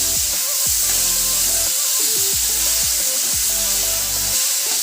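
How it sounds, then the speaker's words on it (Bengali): Boiled bottle gourd is tossed and fried in a hot pan, giving a loud, continuous hiss with regular scraping stir strokes close by. "লাউটা দিয়ে দিলাম এখনও খুব ভালোভাবে এটাকে নেড়ে চেড়ে ভেজে নিতে হবে"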